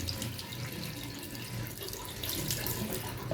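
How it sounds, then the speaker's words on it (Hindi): A bathroom water tap runs steadily into a sink, a continuous close splashing rush with no talking. "यही टैप चलाएंगे"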